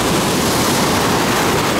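Sea surf breaking on a beach in Alanya, Turkey, heard as a steady, loud broadband wash of waves without distinct individual breaks, with no voices.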